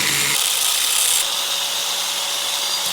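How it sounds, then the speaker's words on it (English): A power grinder cuts through stock welds on a car seat bracket for fitting C7 Audi S6 seats into a C5 Allroad. It makes a steady, loud, close abrasive whine that shifts tone slightly partway through and runs without a break. "if I just grind off these stock welds"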